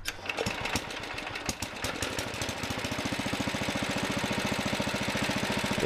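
Kohler engine running steadily with a rapid, even pulsing beat that settles in after a few louder knocks at the start, loud and close with no voices.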